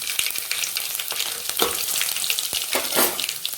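Mustard seeds splutter and garlic fries in hot oil for a Tamil green moong masala, giving a loud, steady sizzle broken by sharp popping crackles close by, with no voices.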